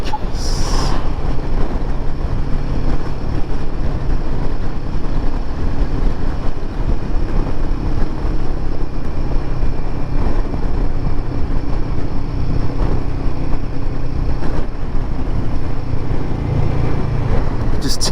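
Royal Enfield Himalayan 450 motorcycle under engine braking while riding, a loud continuous low engine drone mixed with rushing wind noise, steady throughout with a person talking over it.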